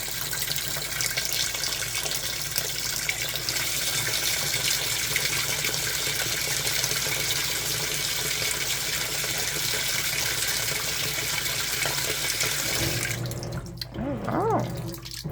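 Water pours steadily into the tub of an Amana NTW4519JW2 top-load washer filling on a speed wash cycle, a constant close-up rush that cuts off sharply near the end, leaving only a few brief tonal sounds after it.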